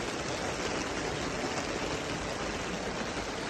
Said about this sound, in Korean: 점점 더 빗방울이 굵어지고 있네요